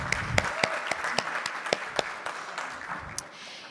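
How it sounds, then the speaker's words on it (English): Audience applause for a community figure at an engagement festival, a broad wash of clapping with sharp individual claps standing out, fairly close and steady throughout. "Perhaps you can stand up, actually, just to give a round of applause."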